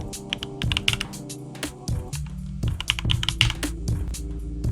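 Fingers type on a computer keyboard in quick, uneven bursts of close clicks and key taps, sometimes with heavier strokes, and no one speaks while the typing runs.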